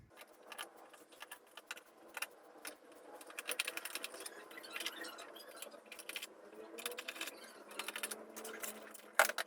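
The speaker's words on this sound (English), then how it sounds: "let's remove these screws in order to remove this" Screws being taken out of the bottom panel of a mixer grinder appliance during disassembly, heard as faint, close, irregular metallic clicks, scrapes and small rattles with no talking.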